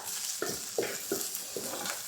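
Capsicum and green chilli frying in a pan for chicken Manchurian: a soft, steady sizzle broken by four evenly spaced scraping strokes of a stirring spoon, close and fairly quiet, with no voices.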